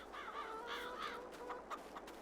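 Chickens clucking and calling on a farm in Farming Simulator 22, a flock of about 71 birds, with a few rising and falling squawks and a steady low hum of farm ambience throughout.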